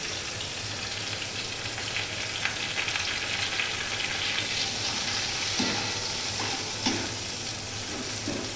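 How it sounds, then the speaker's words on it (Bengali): Onions frying in a pan for a pumpkin and chickpea dish, giving a continuous close sizzle with occasional stirring scrapes and taps; no voices. "পেঁয়াজটা অল্প করে ভেজে নিচ্ছি"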